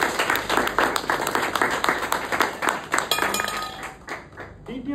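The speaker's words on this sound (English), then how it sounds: "Can we get a round of applause to Toastmaster?" Audience at a Toastmasters keynote breaking into a round of clapping, a brisk patter of many hands close by that swells and then thins out toward the end, with voices talking over it.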